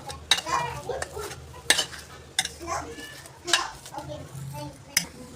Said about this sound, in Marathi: आता हे चांगलं मिक्स करून घ्यायचं सगळं